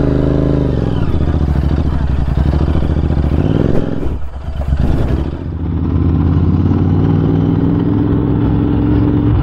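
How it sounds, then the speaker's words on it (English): A Royal Enfield Interceptor fitted with aftermarket exhaust pipes rumbles loudly and steadily up close, with a deep growling tone that dips briefly midway and then settles back to a strong idle. "You get a decent growl that lets the engine sing and gives you tons more road presence"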